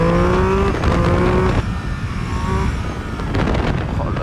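A Triumph Speed Triple 1200 RS motorcycle with a 180 hp triple engine roars loudly up close under wind noise, its pitch dropping as it brakes hard before the engine note climbs again.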